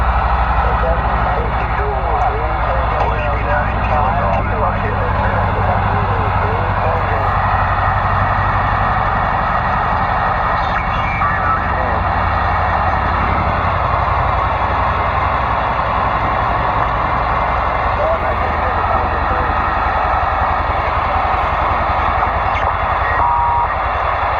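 Steady low rumble of a helicopter flying overhead, loud and continuous throughout, with a voice talking over it early on.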